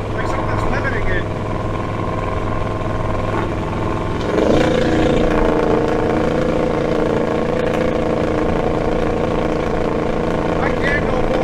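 A car engine fitted with a Holley Sniper EFI revs steadily and loudly, climbing in pitch around the midpoint and then holding as if held back near 3,500 rpm, a continuous drone throughout.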